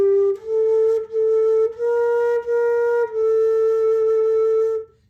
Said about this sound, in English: the flute is a woodwind instrument where you blow across the head joint like you would a pop bottle